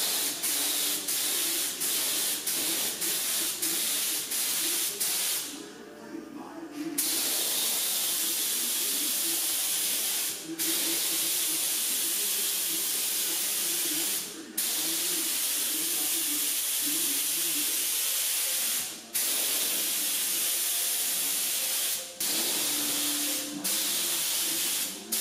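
A spray gun hisses steadily up close while laying filler primer on bodywork during an F100-to-Crown Vic frame swap, with a few short breaks and sharp bursts between passes.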